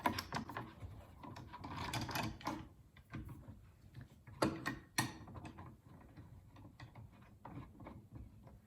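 Clicking, ratcheting mechanical sounds of clamps being cranked tight on a glued acoustic guitar butt inlay, with scattered knocks and rattles of wood and metal close by.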